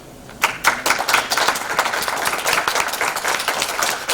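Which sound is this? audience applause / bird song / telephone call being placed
audience applause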